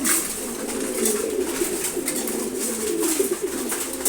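A flock of racer pigeons coos continuously while eating their morning feed, layered low burbling calls from several close birds over a light background hiss of pecking.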